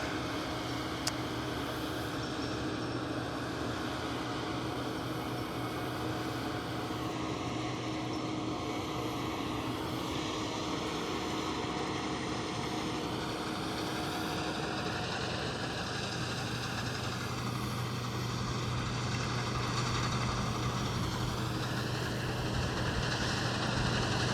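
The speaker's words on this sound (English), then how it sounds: "And he idles this combine down" Combine harvester at a bean harvest, a continuous loud engine drone close by with shifting pitch as the machine approaches and throttles down toward idle.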